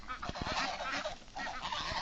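A flock of farm ducks in a Bangladeshi village keeps up a continuous, overlapping chorus of nasal quacks for about two seconds, with a few soft clicks and thumps underneath and no speech.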